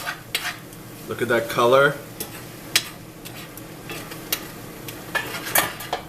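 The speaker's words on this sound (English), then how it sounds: "Mix it a little bit as it starts to get tender." A utensil stirs food cooking in a single pan over lowered heat, scraping and clinking in short bursts with a faint sizzle, while a person briefly talks.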